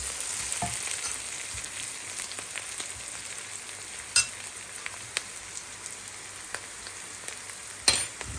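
Onions frying for fried rice in a hot pan, a steady close sizzle with a few sharp clinks and scrapes of a utensil, no talk.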